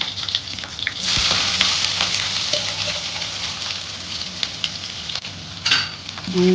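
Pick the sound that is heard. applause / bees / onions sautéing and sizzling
onions sautéing and sizzling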